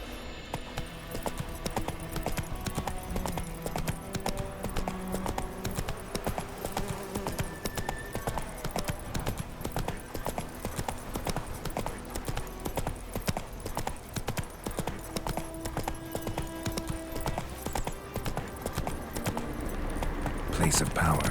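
Roach the horse galloping in The Witcher 3 game, rapid continuous hoofbeats at steady pace throughout, loud and close, with game speech and background music mixed underneath.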